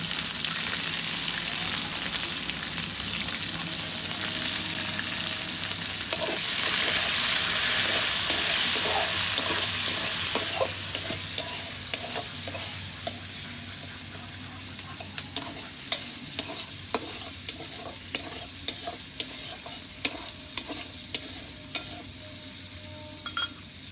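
Cumin seeds, chopped onion and green chilli frying in oil, a loud continuous sizzle that swells midway, followed by a run of sharp, irregular spatula scrapes and taps against the pan.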